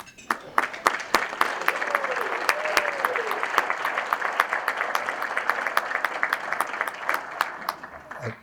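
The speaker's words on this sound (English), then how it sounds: "give them applause" Applause at a university hall of fame ceremony as honorees stand, steady crowd clapping with sharper individual claps standing out, a voice briefly heard underneath, fading toward the end.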